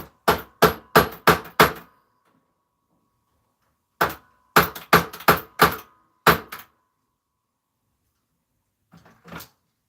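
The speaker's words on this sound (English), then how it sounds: "Right, we've got the hammer." Sharp, loud hammer blows come in quick clusters, five strikes, then a pause, then several more, and a final softer pair after a long silence.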